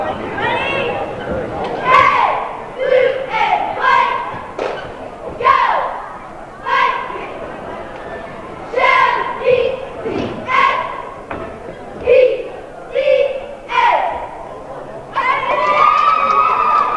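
Cheerleaders chant a rhythmic cheer at a high school junior varsity boys' basketball game in a gym, with loud regular thumps and stomps and crowd chatter around them.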